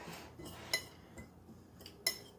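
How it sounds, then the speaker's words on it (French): Dry ingredients for a keto carrot cake are mixed in a dish, a utensil tapping and clinking against it a few times with soft scraping in between, close and quiet. "on mélange tous les ingrédients secs ensemble"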